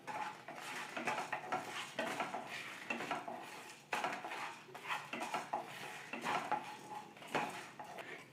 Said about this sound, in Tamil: இந்த பருப்பெல்லாம் நல்லா வறுபட்டு இறக்குற நேரத்தில் கறிவேப்பிலை கொஞ்சம் சேர்த்து அதையும் நல்லா ஃப்ரை பண்ணிக்கலாம்